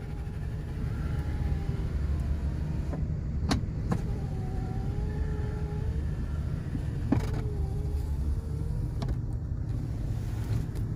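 Power windows on a 1979 Lincoln Continental run with a steady low electric motor hum inside the car, a few faint clicks and thumps marking the window stops, no talking.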